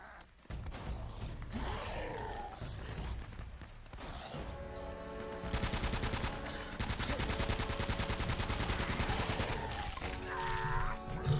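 Enemy gunfire in the video game Uncharted: sustained rapid automatic shooting and crackling bursts over a dense game soundscape, loud and continuous, with a voice briefly audible.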